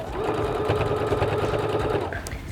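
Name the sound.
sewing machine top stitching a pocket bag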